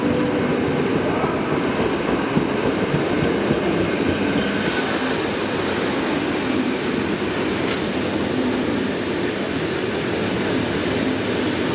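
An EN57 electric multiple unit rolls along a foothill line near Kalwaria Zebrzydowska in autumn, heard from on board as a steady loud rumble with rail clatter and brief squeals throughout.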